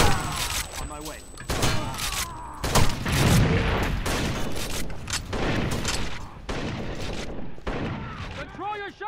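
Rapid bursts of gunfire and heavy thuds from a close firefight, dense repeated shots under shouted talk and radio-style voices throughout.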